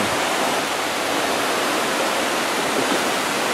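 Yokokawa waterfall (Kaiishi falls) on Mount Yokokawa in Okaya pours in a steady, full-band roar of falling water, constant and close with no break across the moment.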